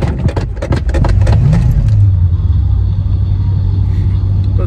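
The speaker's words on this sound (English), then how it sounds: "If I'm not like ready to drive and I don't pump the ignition right, then my car doesn't let me drive." A van's engine cranks and catches after a few rapid bursts, then settles into a loud, steady low idle rumble close by with a brief rev in the middle.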